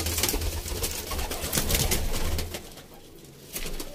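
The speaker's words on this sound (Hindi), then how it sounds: "ऊपर में भी बैठे हैं कुछ कबूतर" Pigeons coo in a loft where young birds and breeding pairs are kept, soft low repeated calls running steadily throughout with a broad noisy background and a few fluttery bursts.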